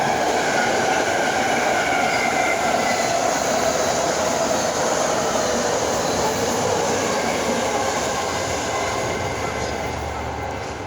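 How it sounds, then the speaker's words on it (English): A BART train runs along elevated tracks overhead, producing a loud, continuous rumbling roar with high metallic squeal that fades slightly near the end. "I live under the BART train tracks. It's really loud."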